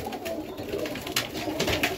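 Highflyer pigeons in Melbourne, Australia coo softly and repeatedly in a steady, murmuring stream, with no voices over them.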